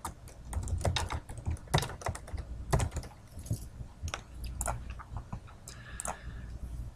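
Someone types a text style name on a computer keyboard: a steady run of crisp, close key clicks with brief pauses between bursts, and no voices.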